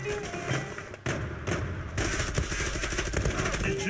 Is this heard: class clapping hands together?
no